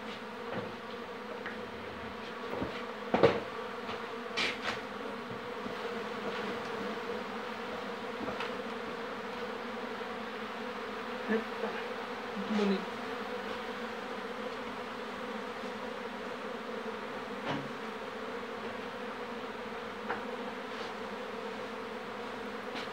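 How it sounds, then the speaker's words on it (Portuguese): A new, populous swarm of Apis honeybees hums steadily inside an opened hive box, a soft continuous buzz with a few faint knocks and clicks scattered through it. "É um enxame novo, pólen bem populoso."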